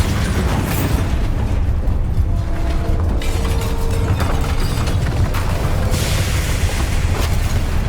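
Bombarda spell explosions in the video game Hogwarts Legacy, loud booming bursts with heavy rumble and some mechanical clatter running continuously throughout.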